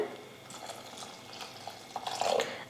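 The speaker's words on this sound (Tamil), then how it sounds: "இப்போ இந்த பாலை சேர்த்துடுறேன்" Boiled milk poured into sago payasam, a sweet Tamil pudding: a steady liquid stream runs for a few seconds and swells into a louder gurgling fill near the end.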